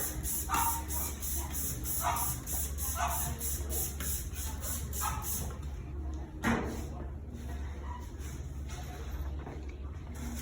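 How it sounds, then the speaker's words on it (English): Repeated short hissing bursts of a spray bottle of disinfectant, several quick pumps in a row, followed by quieter shuffling and a single thump. "making sure that we spray everything down"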